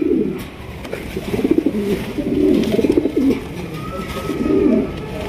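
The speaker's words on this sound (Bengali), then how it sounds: "এটা হচ্ছে পাইক রেসার কবুতর" Racer pigeons coo in low, throaty rolling bursts, several phrases in a row, close by and fairly loud over a faint background hiss.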